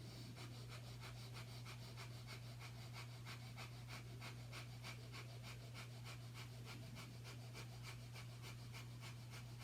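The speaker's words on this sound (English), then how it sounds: "Breath of fire." Rapid, rhythmic breath-of-fire panting during a yoga vinyasa flow, quick even exhalations repeating steadily and fairly close, faint overall with no talking.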